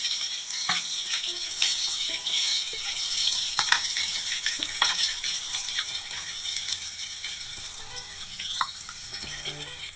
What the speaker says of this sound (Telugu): చక్కగా బ్రౌన్ కలర్ వచ్చేదాకా ఫ్రై చేయండి.